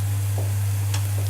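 Leeks cooking in a pan for a samosa filling give off a soft, continuous sizzle with faint scraping touches, set over a steady low electrical hum.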